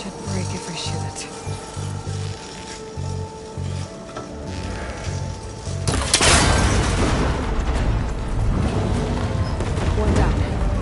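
A gunshot breaks a cable connector on an old rickety tower in Horizon Forbidden West. A sharp loud crack and burst of noise lands midway through, after steady rhythmic ambient pulses, and a rumbling wash follows.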